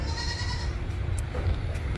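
A Mewati cross goat, a young two-toothed doe, bleats in a pen at a goat sale in Kharghar, one short call rising over a low steady background rumble with no talk.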